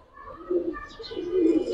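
Giribaj silver and coloured pigeons coo softly and nearby in two low, wavering phrases, with faint chirps over quiet background.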